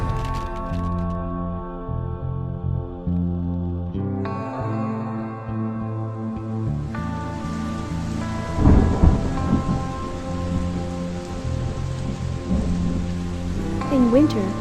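A heavy thunderstorm with steady rain pouring down, loud rumbling thunder and sharp cracks rising over the downpour, with musical tones underneath.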